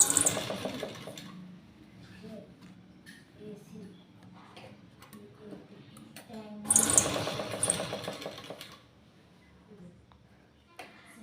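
A tailor's sewing machine stitching a bridal aari-work blouse, running in bursts of rapid rattling stitches with pauses between, up close, while someone talks over parts of it.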